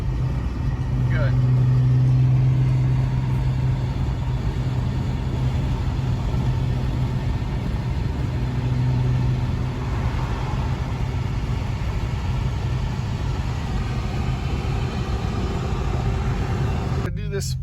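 An Infiniti Q50 engine running rough with a low, steady rumble that carries on throughout, with someone talking over it early on and a short clatter near the end.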